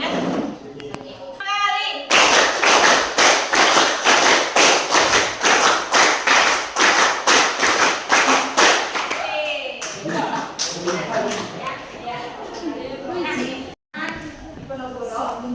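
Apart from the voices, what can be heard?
group clapping a counted rhythm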